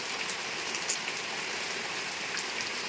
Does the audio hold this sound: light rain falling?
yes